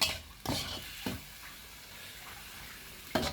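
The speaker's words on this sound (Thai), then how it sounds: "ใส่ใบกะเพราลงไปนะครับ" Pork stir-fried with holy basil leaves in a pan, with a steady low sizzle and three or four sharp spatula scrapes against the pan at uneven intervals, no voices.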